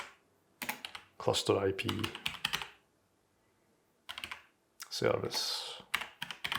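Quick bursts of typing on a computer keyboard, clattering keystrokes in clusters separated by pauses, with someone speaking briefly between them.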